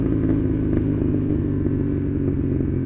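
Honda CB750 Hornet motorcycle exhaust rumbling steadily and loud at low speed on a slippery road, a continuous close engine drone with no talk.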